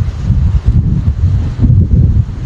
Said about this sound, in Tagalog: Mahangin. Mahangin masyado. Malakas. Ganito talaga sa dagat, no?